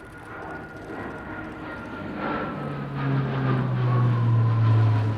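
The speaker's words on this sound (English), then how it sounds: "Now positioning for a very unorthodox manoeuvre for a transport aircraft." An Italian Air Force Alenia C-27J Spartan twin-turboprop transport flying a display at RIAT, its steady engine drone heard from a distance and swelling gradually louder as it approaches.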